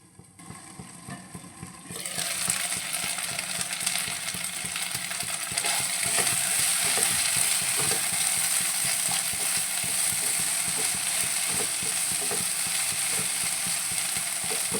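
Raw banana poriyal frying in a pan, a dense continuous sizzle that swells after a quieter start, with soft stirring scrapes throughout.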